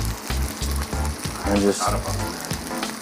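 Marinade hits a hot pan of softened, browned onions and sizzles loudly and steadily, with spatula scrapes and a brief voice over the frying.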